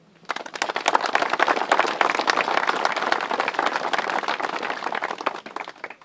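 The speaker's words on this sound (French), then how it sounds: "On peut l'applaudir." An outdoor crowd at the Koufra Oath monument in Ancinnes applauds a former Resistance fighter: after a brief quiet start, dense, even clapping fills about six seconds at steady strength, with no talk over it.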